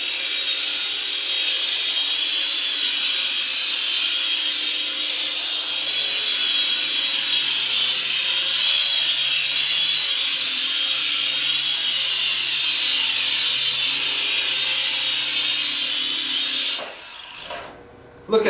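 A toy two-channel infrared RC helicopter flies slowly, its small rotor giving a steady high-pitched whir, before the sound cuts off abruptly near the end as it lands.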